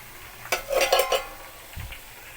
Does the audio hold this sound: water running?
no